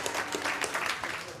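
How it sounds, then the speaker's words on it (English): Brief scattered clapping from a comedy club audience, a short patter of hands that stays fairly quiet and thin across a second or so. "Clap if you ever do that."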